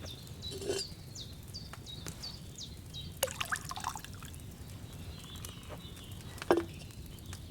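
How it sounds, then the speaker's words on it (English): Liquid drips and trickles in short bursts, a few splashy pours of wine into a cauldron in the video game Kingdom Come: Deliverance II, against a quiet, steady background hum, with faint chirps. "First, you have to pour the right base into the cauldron."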